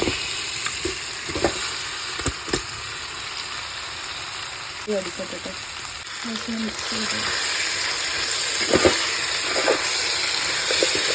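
Beef drops into masala frying in a pan for a Kerala beef curry, giving a loud continuous sizzle and hiss with scattered clinks and scrapes of a spoon against the pan, close up.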